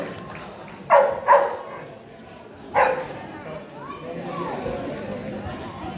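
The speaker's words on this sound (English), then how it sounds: "when you were swinging the billy, the dog was barking" Farm dog barking outdoors at a farm show: two sharp barks close together, a pause, then a third bark, with faint background chatter and ambient noise afterward.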